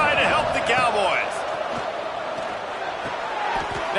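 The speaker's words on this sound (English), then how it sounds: "This crowd alive to try to help the Cowboys." A loud stadium crowd roars steadily at a Wyoming Cowboys home football game against Washington, a dense continuous wash of cheering and whistles with a commentator's voice over it.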